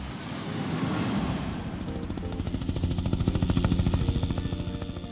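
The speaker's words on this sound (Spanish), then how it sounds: "Este es un helicóptero." A helicopter's rotor chop rises into a steady, pulsing thrum, loud and continuous against a windy, rushing backdrop, with no voices.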